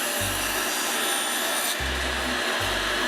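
A Makita 2703 table saw cuts wood at a 45-degree bevel, the low motor hum rising into three steady cutting passes separated by short pauses, loud and close with no talking.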